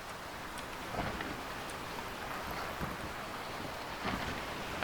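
Storm at sea in the sailing video game Sailwind, a steady wash of heavy rain with low rumbles of thunder rolling underneath, constant and fairly loud throughout with no voices.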